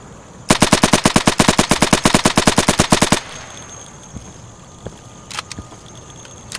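A rapid burst of automatic gunfire in the video game Insurgency: about two dozen loud, evenly spaced shots in a steady stream lasting close to three seconds, followed by a quieter stretch with a few scattered distant pops.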